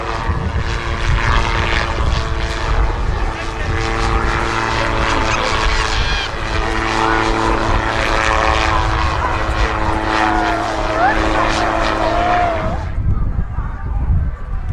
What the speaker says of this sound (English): Little bit of crazy flying there from Peter, show you the manoeuvrability of the aeroplane